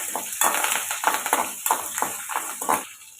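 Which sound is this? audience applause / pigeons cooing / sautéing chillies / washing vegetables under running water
sautéing chillies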